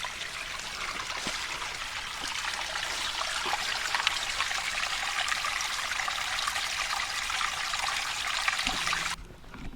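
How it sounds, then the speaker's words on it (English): A small stream and a little waterfall on a hiking trail trickle and splash in a steady, close wash of water that runs the whole time and cuts off sharply at the end. "And a nice little stream here."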